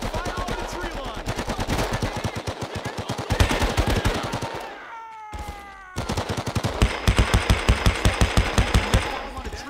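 Xbox game Men of Valor battle gunfire, with loud rapid machine-gun bursts in fast rhythmic volleys, a brief pause with whooshing effects, then more sustained automatic fire up close.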